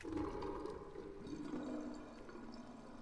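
Bath water drains in a horror video game set in a haunted Japanese bathhouse, a steady gurgling rush that swirls continuously and fairly close, filling the whole moment with no talking.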